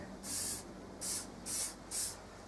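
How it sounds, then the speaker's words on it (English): Four short bursts of aerosol spray from a can of GC85 on a Lexmoto ZSX 125 motorcycle fork, each a bright, close hiss lasting about half a second, separated by brief pauses over a faint background. "Now what might be a good idea, spray the back."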